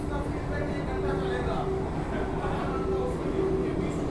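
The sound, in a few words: Vande Bharat express train running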